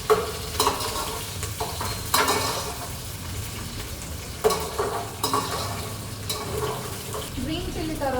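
Green chillies hit hot oil with spices in a biryani pot, giving a loud sizzle with sharp crackling bursts and scraping stirs that come and go over a steady frying hiss.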